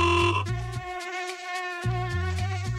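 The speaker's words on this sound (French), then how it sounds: "Une mouche?" A fly buzzes in a steady, droning hum that persists close up for a few seconds amid tonal background sound.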